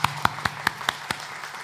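A church congregation claps at a Sunday worship service, a short run of distinct, evenly spaced claps that thin out after about a second.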